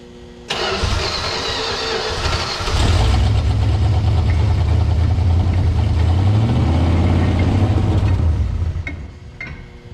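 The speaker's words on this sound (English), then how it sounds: "after 31 years being off the road, sitting in the field, got this thing running" An old Mopar station wagon engine, left sitting in a field for 31 years, cranks and catches, then settles into a loud, steady rough running close by, with no talk over it.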